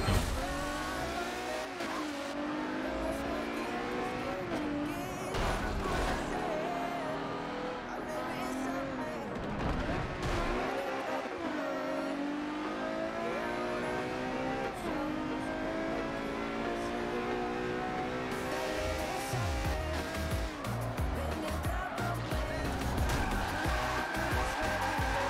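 A Mercedes CLK GTR AMG race car in Forza Motorsport 7, its engine droning and revving continuously through gear changes with tire squeal, loud and sustained, while someone talks over it at times.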